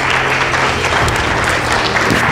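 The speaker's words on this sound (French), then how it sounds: "tout le monde applaudit Mitaba." A roomful of attendees at a business gathering applauds an honoured guest, the clapping thick, continuous and loud from start to finish.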